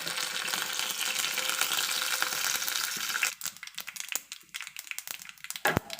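Mustard seeds, urad dal, dried chillies and curry leaves tempering in hot oil for peanut chutney: a dense loud hiss of frying that breaks into scattered sputtering pops and crackles.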